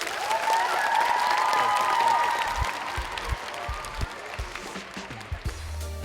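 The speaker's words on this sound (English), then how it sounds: "Let's clap it up for Zaza Pachulia." A crowd at a Golden State Warriors live event applauds and cheers a newly signed basketball player, loud mixed cheering and clapping that thins toward the end into scattered close claps.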